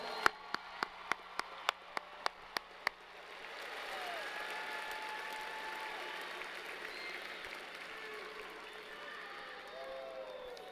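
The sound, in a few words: applause for graduates at commencement ceremony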